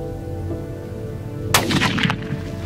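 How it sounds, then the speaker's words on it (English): A single loud rifle shot cracks out sharply during a roan antelope hunt on an African safari, followed by a booming, rolling echo that fades over about a second. "Good shot, Matt."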